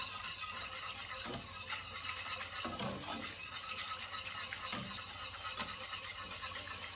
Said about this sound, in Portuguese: Então eu vou misturando e mexendo rápido,